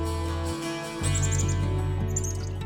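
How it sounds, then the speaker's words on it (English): Wild birds, chickadees and cardinals, chirp in woods above a marsh, short bright repeated tweets in quick runs over a steady low background hum. "chickadees, cardinals, all our types of birds"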